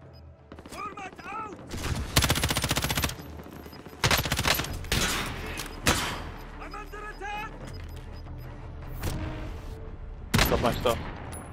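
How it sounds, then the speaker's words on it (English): Gunfire in the video game Call of Duty Warzone, loud bursts of rapid automatic shots and booming blasts in several bouts, mixed with excited voices talking over the action. "I'm getting shot at."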